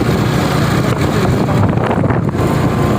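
Steady low engine drone of a motorbike carrying two riders, mixed with loud wind rush against the microphone, close and continuous throughout.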